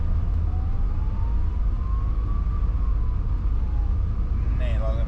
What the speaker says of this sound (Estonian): Kiirabi mööda praegu.